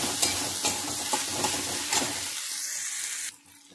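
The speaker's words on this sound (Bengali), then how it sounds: "পেঁয়াজটা খুব ভালো করে একটু ভেজে নেব" Onions frying in a pan for a semolina snack, a near crackling sizzle with rhythmic stirring strokes that thins out and drops to quiet near the end.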